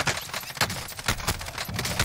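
Rapid gunfire in Call of Duty Warzone, a run of quick sharp shots repeating in a fast rhythm at moderate volume, muffled and slightly distant.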